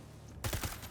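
After a short quiet start, a rapid burst of video game gunfire erupts, several quick close shots in a tight rhythm that keep going to the end.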